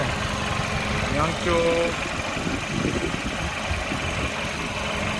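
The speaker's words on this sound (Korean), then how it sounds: "엔진 소리는 그다지는 좋지는 않은데" A Hyundai Avante MD engine idles with a steady low rumble and slight roughness, continuous throughout, while someone talks over it nearby.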